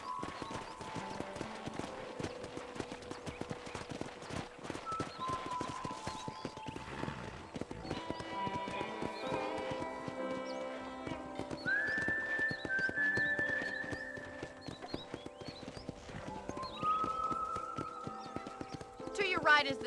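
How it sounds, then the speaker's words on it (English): Horse hooves clip-clopping in the Western game Red Dead Redemption while riding onto a ranch, a steady rhythmic patter mixed with music, whistles and game sounds. "let's see if you can still ride a horse"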